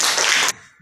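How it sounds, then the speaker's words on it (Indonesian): A twelfth-grade class claps for a classmate in a classroom: a short, loud burst of many hands that stops abruptly after about half a second, leaving only faint room sound. "Tepuk tangan untuk Debbie"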